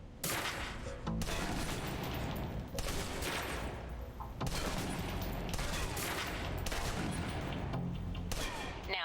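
A submachine gun empties a full clip in Alpha Protocol, loud sustained bursts of automatic fire with brief pauses between volleys, heard close with no voices.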